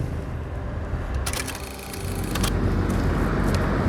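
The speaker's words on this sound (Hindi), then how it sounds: "ये देखिए ये खाली गाड़ियाँ भी आ रही हैं" Empty goods vehicles pass along a highway with steady engine and tyre roar, loud and close, swelling as one approaches near the end.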